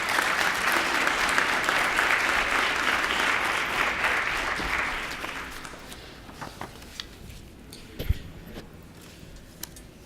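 Audience applause at a national public security forum, a dense wash of clapping for about five seconds that fades out, leaving sparse claps and faint room noise.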